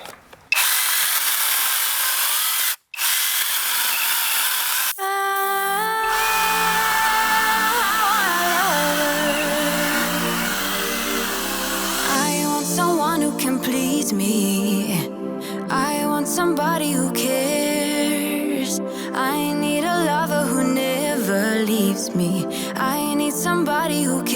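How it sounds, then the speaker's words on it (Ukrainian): A small cordless mini saw whines and buzzes as it cuts through wood, starting with a short rev, then grinding steadily with shifting pitch and scraping noise. "давайте тепер протестуємо ось цю пилку"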